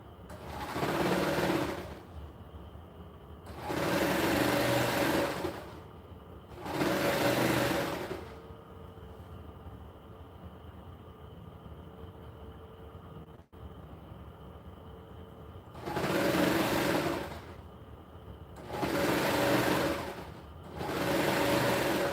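A Brother cover stitch sewing machine runs in a series of steady bursts, three and then three more, each about one to two seconds long, with a low hum and a long pause in the middle.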